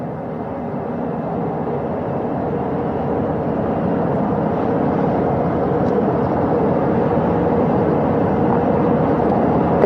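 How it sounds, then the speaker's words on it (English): Helicopters power down on a ship's flight deck at sea, giving a loud, steady broadband engine and rotor roar that holds without pause throughout. "right after we power down the helicopters here"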